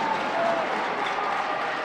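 A crowd at a high school boys basketball championship game in a gym applauds in a dense, steady wash of clapping, loud and sustained throughout, with faint voices mixed in.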